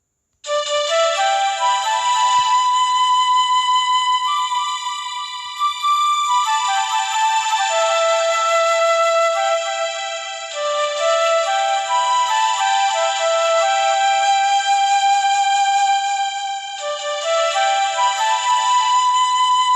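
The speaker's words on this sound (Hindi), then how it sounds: "मैं आप सबों को बजा के सुनाता हूँ।" A song plays on a mobile keyboard app as a loud, clean melody of sustained synthetic notes that step up and down in phrases for about twenty seconds, alone and without voices.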